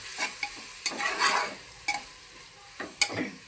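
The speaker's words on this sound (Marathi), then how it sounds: "सर्वप्रथम मेथी आणि पालक टाकूया आणि थोडं स्टर करून घेऊया, हलवून घेऊया।" Fresh fenugreek and spinach leaves stirred in a pressure cooker for dal, with soft sizzling under scattered scrapes and clicks of the spoon against the pot, fairly close and without talk.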